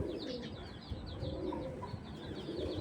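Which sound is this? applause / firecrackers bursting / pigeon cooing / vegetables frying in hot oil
pigeon cooing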